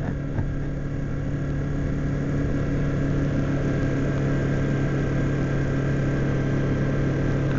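A 2007 Kawasaki Ninja 250 motorcycle engine holds a steady, droning hum around 4,500 RPM while riding in third gear at low speed, continuous and fairly close with constant road and wind noise underneath.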